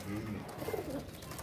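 Pigeons, including Chinese and paired breeds kept by a fancier, coo softly in a short burst of low, throaty calls close by.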